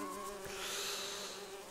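Bees buzzing in the video game Link's Awakening as they chase the character Tarin, a steady droning hum with no speech.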